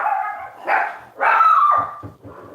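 Several dogs bark in loud, overlapping bursts close by, with a few yips and whimpering tones between the barks, heard in a home kitchen.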